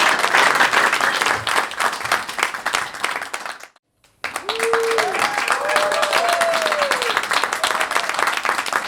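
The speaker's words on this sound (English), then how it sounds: "How about a round of applause for Aarti Vincent joining us for joke off?" A studio audience applauds a guest comedian on a comedy show, bright dense clapping that breaks off briefly into near silence, then resumes with a voice sliding through musical vocal tones over the renewed clapping.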